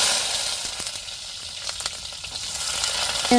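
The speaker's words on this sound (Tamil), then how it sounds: "எண்ணெய் சூடேறிட்டு பெருஞ்சீரகம் ரெண்டு வத்தல் பிரிஞ்சி இலை இதை சேர்த்துக்கிடுவோம் அதுக்கப்புறம் வெங்காயம் சேர்த்துக்கிடுவோம்" Fennel seeds, dried chillies, bay leaf and onion frying in hot oil for a mutton dish, giving a steady, close hiss of sizzling with faint scattered pops and stirring clicks, no voices.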